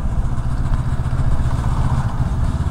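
A 2022 Honda CB500X motorcycle engine drones steadily while riding, a loud, close, mid-pitched parallel-twin rumble with wind rush and slight clatter, continuous and without speech.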